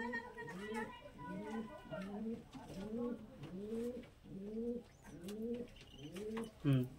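A pigeon coos in a steady series of soft, rolling calls, about eight in a row, close and clear, with someone talking over the bird throughout.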